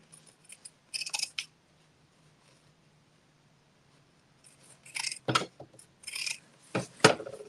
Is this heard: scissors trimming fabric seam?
yes